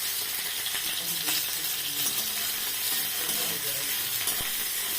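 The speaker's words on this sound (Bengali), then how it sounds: "এগুলোকে আমি এবার লাল লাল করে ভেজে নেব।" Dried lotte fish (shutki) frying in a pan of hot oil, a steady hissing sizzle with occasional sharp ticks and pops, moderately loud and close, alone with no voice.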